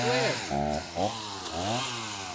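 An Oregon 40V PowerNow cordless chainsaw running close up, its loud electric whine rising and falling in pitch as it is revved repeatedly.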